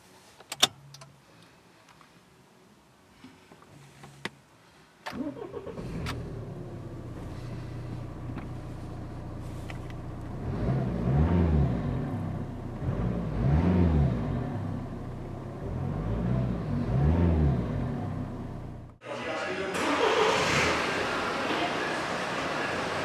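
Toyota RAV4 engine heard from inside the cabin: a few clicks and key sounds, then the engine catches and settles into a steady low idle with swelling revs, ending in a brighter burst of noise.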